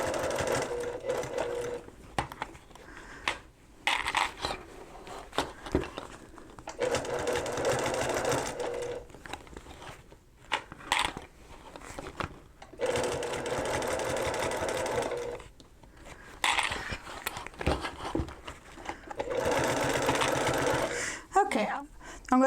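A sewing machine stitches a reversible fabric bucket hat in repeated runs of fast whirring, stopping and starting between bursts, with a person talking in the gaps.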